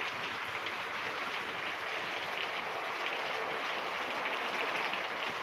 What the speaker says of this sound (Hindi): बारिश बारिश हो रही है।